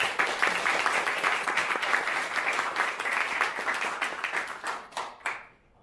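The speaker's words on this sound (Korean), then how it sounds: "큰 박수로 맞이해 주십시오." An audience at a BNI business chapter meeting applauds to welcome a presenter, many hands clapping in a lively, crackling burst that thins out and fades away near the end.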